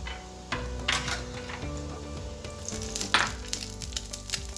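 An egg-coated roll wrap sizzles and fries in oil on a pan, a steady close crackling hiss with occasional spatter pops and faint utensil ticks, no voices.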